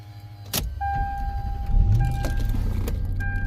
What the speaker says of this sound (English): Car starts fine.